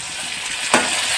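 Tomatoes go into a hot pan while Maggi noodles are being made, giving a steady close sizzle that jumps into one brief, louder hiss as they hit the oil.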